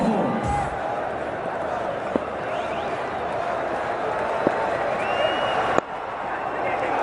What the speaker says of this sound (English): And the crowd will go up.